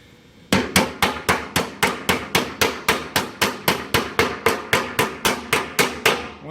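Sharp, evenly spaced hammer blows strike an aluminum aircraft cowling, about twenty ringing metallic whacks in a quick steady rhythm, close and loud with no talking.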